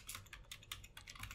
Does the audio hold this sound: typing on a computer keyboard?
yes